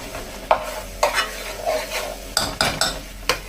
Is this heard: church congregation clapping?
no